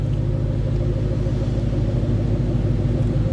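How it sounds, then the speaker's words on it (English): A 2013 Ford Mustang Shelby GT500 with a 5.8-liter supercharged V8 idles with a deep, steady, throaty exhaust rumble, close and constant throughout. "Nice throaty exhaust note."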